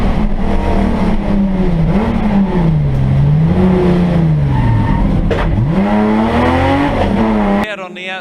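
Saloon race cars battle through turn 4 at Phillip Island Raceway, engines loud and close with rising and falling revs and brief tire squeal, under continuous commentator talk.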